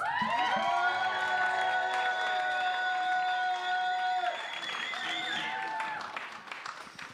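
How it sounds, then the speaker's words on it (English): Premiere audience at 83 Rivington Street for a short film, applauding and cheering with whoops and some shouting, loud and dense at first, then thinning and fading near the end. "one more huge round of applause"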